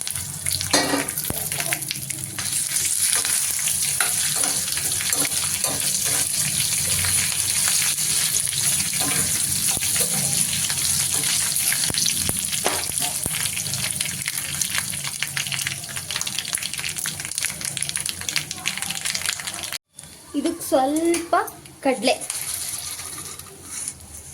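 Chili bajji fries in hot oil, a steady dense sizzle and bubbling with occasional stirring clinks, while someone talks over it and a brief louder burst of sizzle comes near the end.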